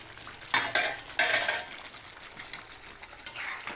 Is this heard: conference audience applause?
no